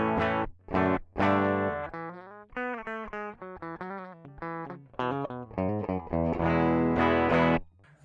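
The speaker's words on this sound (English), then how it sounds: "let's see how this cabinet simulator basically sounds like" An electric guitar runs through a cheap DI box with a cabinet simulator and plays distorted chords and short riffs in choppy bursts with brief gaps, loud and close, with no talk.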